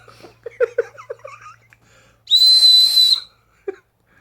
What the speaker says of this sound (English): It's a proximity location whistle, not a rape whistle.